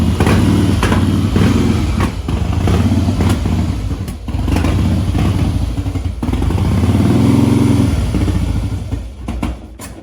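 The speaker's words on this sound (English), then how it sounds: "I will start the bike again, see if it works." A 2011 Harley-Davidson Custom Heritage Softail with an aging regulator runs loud and close, its deep, lumpy idle rising and falling with rev swells and a few sharp clattering ticks over about ten seconds.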